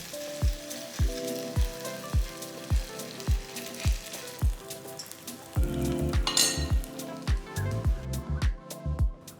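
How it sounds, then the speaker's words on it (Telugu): A ladle of semiya batter spread across a hot pan greased with melted ghee for crispy semiya attu, with a steady sizzle under regular metallic taps and scrapes of the ladle, close and fairly loud. "ఒక గరిటె సేమియా పిండి వేసి జస్ట్ ఈవెన్గా స్ప్రెడ్ చేసుకోవాలి"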